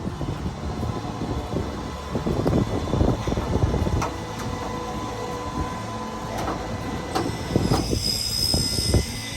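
PIVOTtray mechanism retracting to its home position, giving a rattling, clattering mechanical run of knocks and squeaks with a steady rumble underneath, close and moderately loud, with no talking.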